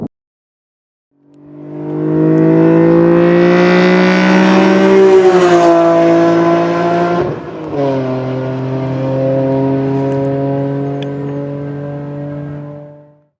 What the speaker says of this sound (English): So we are now officially behind the wheel of the BMW E46 M3